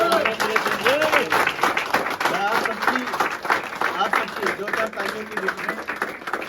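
Loud clapping from a crowd runs throughout, with a voice speaking over it via a microphone.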